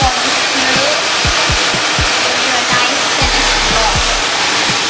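A hair dryer blows a loud, steady airy roar while hair is blow-dried straight, with faint bumps and handling noises underneath.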